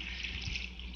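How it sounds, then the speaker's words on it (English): Water being poured into a tray of ammonium nitrate makes a steady, close hiss of liquid splashing without a break, with no talking. "put your water in here and then stir it up till it's completely dissolved"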